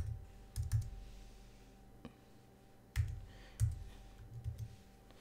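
Computer keyboard being typed on at a desk during an online login, sparse clusters of keystrokes and clicks with pauses between them, close and fairly quiet, no talking.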